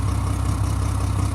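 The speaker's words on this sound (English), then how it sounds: "It's idling, but it has like an exhaust leak." A 2007 Mack MR688S roll-on roll-off truck idles roughly with an exhaust leak from a cracked exhaust manifold. It makes a deep, continuous rumble with a fast, pulsing low throb close by.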